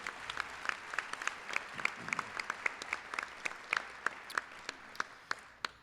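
Sparse applause at a mayor's State of the City address thanks a priest for his invocation, with a small number of distinct, fairly distant claps in a loose irregular rhythm.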